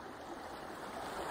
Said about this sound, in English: That's a real river down there.